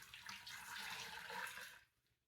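About four cups of plain tap water pour into an Instant Pot, making a steady close splashing rush that stops abruptly into quiet.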